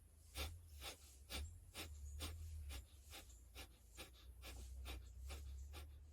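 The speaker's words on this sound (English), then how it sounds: "you activate your belly muscles and you breathe out in pulses through your nose" A person doing deep belly breathing pushes air out through the nose in short, sharp pulses, a dozen or so quick huffs at an even rhythm, close but quiet, with a low hum underneath.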